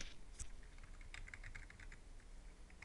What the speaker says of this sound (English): Type the message.